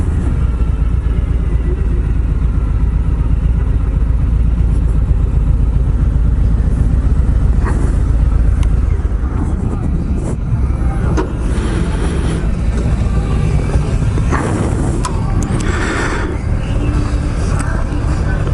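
Harley-Davidson Road Glide motorcycle engine droning loud and steady during a demo ride, a dense low rumble with wind noise and occasional rises in revs.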